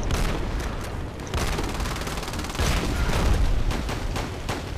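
Rapid, dense gunfire bursts in a video game round where a player rushes enemies with a shotgun, continuous loud shots and explosions filling the whole stretch without talk.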